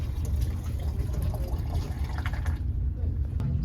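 Used black-and-white film developer poured from a developing tank back into its storage container, a steady liquid pour running continuously under a low rumble.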